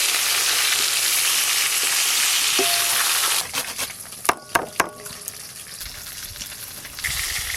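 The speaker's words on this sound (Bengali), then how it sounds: "দেখতে দেখতে এই মাছগুলো ভাজা হয়ে গেল।" Pieces of cut rohu fish fry in hot oil, giving a steady loud sizzle for several seconds that then thins out into crackles and a few sharp spatters near the end.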